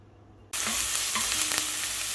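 Ginger dropped into hot oil for an Indo-Chinese ginger chicken bursts into a loud, steady sizzle after a brief quiet start and keeps frying close by with small crackles and stirring.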